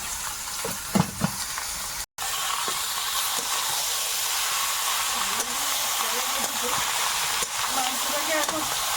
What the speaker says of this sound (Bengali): এবার মাংস ঢেলে দিলাম